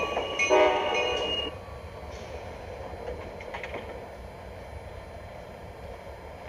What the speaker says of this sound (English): Now arriving from Los Angeles, train number 592,